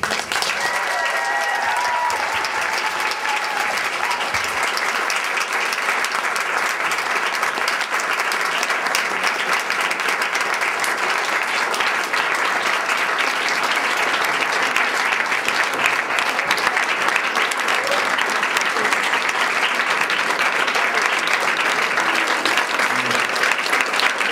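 Sustained applause from a school audience at a choir school's graduation evening in Riga, honouring a teacher; dense, steady clapping fills the whole stretch at a constant level with faint crowd murmur, no voices standing out.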